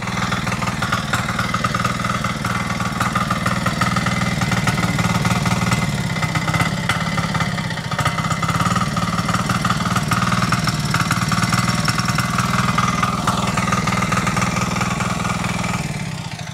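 A cheap 247cc 5 hp single-cylinder diesel engine runs steadily right after its first start, a loud, close, continuous rattling chug with knocking beat and no pauses throughout.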